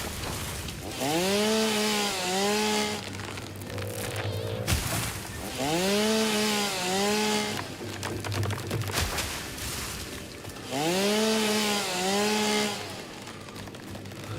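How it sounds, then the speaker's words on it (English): Three loud bursts of a chainsaw in the video game Satisfactory cutting down trees, each lasting a couple of seconds, with quieter choppy gaps between them where wood and footsteps sound. "so we can cut down these trees."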